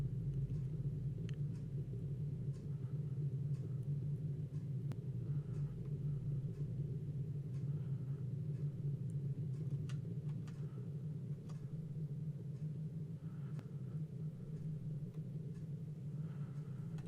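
Steady low rocket-engine rumble from a spacecraft in Kerbal Space Program as it throttles down, a continuous droning roar with faint ticking clicks above it, no talk.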